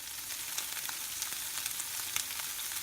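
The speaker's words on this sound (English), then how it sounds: "So coconut oil, the balls, we'll fry those off" Pork meatballs fry in hot coconut oil, making a steady soft sizzle with small spitting pops, heard close up and on its own.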